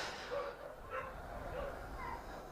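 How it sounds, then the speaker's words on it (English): An excited dog at an Olympia international agility competition gives several quick, high yips and barks in a loose rhythm, fairly faint amid the arena, while a commentator talks over it. "the dog is having such a good time"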